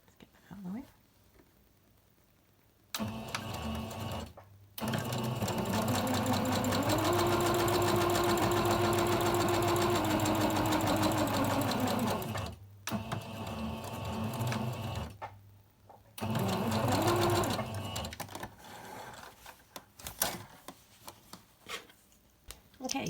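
Sewing machine sewing the two short ends of a Halloween fabric scrunchie into a loop, two long steady runs of rapid stitching with pauses, then quieter handling noises and a voice.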